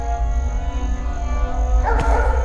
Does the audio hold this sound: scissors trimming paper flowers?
no